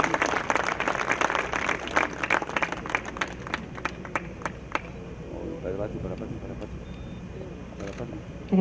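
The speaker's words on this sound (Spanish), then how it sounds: "Fuerte las palmas para recibir entonces al doctor Luis Pinillo Sasco" Audience applause at a La Molina 62nd anniversary celebration welcoming Dr. Luis Pinillo Sasco, a dense burst of clapping that thins out over several seconds while voices murmur underneath.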